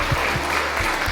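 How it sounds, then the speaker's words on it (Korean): A church congregation applauds during a Sunday worship service, steady dense clapping filling the short moment at even loudness. "우리 박수를 한번 하도록 환영하도록 하겠습니다."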